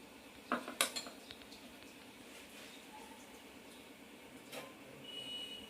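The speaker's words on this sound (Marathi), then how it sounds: "आणि त्यासाठी लागणारा कांदा, हिरवी मिरची, आलं लसूणचा ठेचा, टोमॅटो आणि चवीनुसार मीठ या पिठामध्ये आपण मिक्स करून घेऊ." A spoon clinks against a bowl while onion, green chilli, crushed ginger-garlic, tomato and salt are mixed into appe batter: a few sharp clinks close together early on, then only quiet stirring and room noise.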